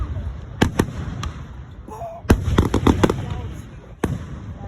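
Fireworks go off at a firework show, with several sharp pops and bangs scattered across the clip, some louder and nearer than others, amid crowd noise.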